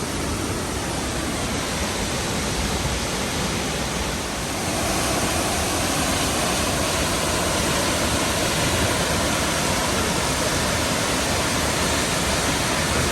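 Rainbow Falls in Gorges State Park, North Carolina, sends down a large volume of rushing water. It makes a loud, constant, close roar that fills the whole stretch with no voices, and it swells slightly partway through.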